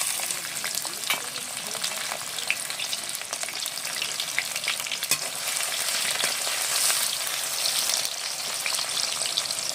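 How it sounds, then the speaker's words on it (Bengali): Capsicum stir-fried in a pan, a continuous loud sizzle with scattered crackles and the scrape of stirring running the whole time, no voices. "ক্যাপসিকামটা হালকা নাড়াচাড়া করে নেব।"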